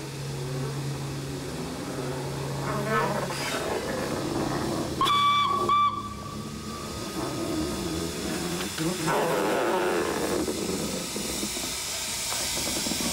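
The steam locomotive Leader hisses and chuffs while breaking through a banner on the Sittingbourne & Kemsley Light Railway, then gives a sharp whistle blast midway, followed by continued steam hiss and rumbling.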